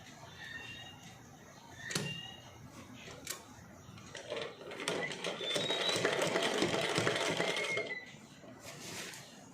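Sewing machine stitching folded pleats along the band of a silk pattu pavada skirt, running in a steady burst in the middle with short stops and clicks before and after, fairly close and without speech.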